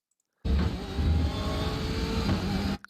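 A BMW M8 race car at full throttle in iRacing roars loudly and steadily for over two seconds after a sudden start, its engine note holding high and close before cutting off abruptly.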